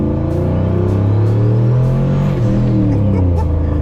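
A swapped, turbocharged 1999 Ford Ranger engine revs under boost with a loud, rising rumble that climbs in pitch and then drops off, heard close from inside the truck.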